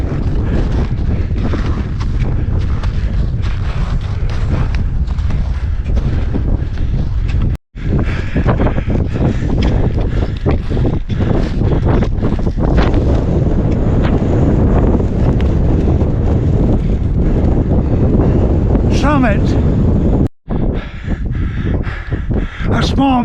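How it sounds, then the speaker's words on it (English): Strong wind roars across a snowy mountainside on the Continental Divide near Goldstone Mountain, Montana, during snowshoe travel. It buffets the microphone as a loud, continuous rumble, broken only by two brief dropouts. "Wind even let up for a moment."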